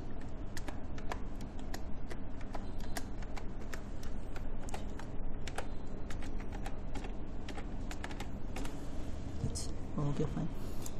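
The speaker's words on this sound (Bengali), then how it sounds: "তো এখানে আমার মেইল অ্যাড্রেস লিখে দিচ্ছি।" Keys clicking in a steady run of short taps as an email address is typed on a computer keyboard, close and fairly quiet over a constant low background hum.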